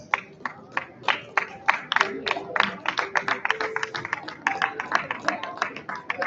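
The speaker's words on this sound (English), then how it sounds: "The parents don't clap that hard." An audience at a graduation ceremony in Tokyo claps lightly and unevenly, with sparse, distinct hand claps at a moderate distance that never build into full applause.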